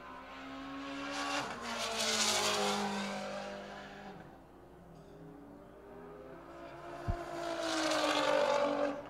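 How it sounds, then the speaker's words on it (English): Race cars, including a Porsche 911, passing on the Buttonwillow track during a GTA Super Lap championship, two loud engine passes rising and falling with Doppler sweeps a few seconds apart, heard from trackside. "Here we have Adam Napick in his Porsche 911."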